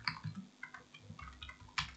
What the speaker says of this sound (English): If I go here and type products